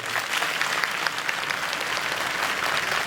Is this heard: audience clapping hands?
yes